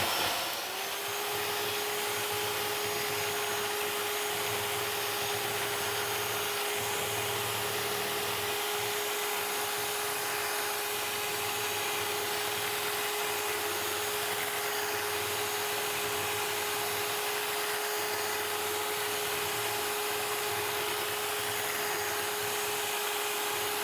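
An electric hand mixer whips cream toward stiff peaks, giving a steady, close motor whine with a constant pitch and a faint rubbing of the beaters, running alone without a break.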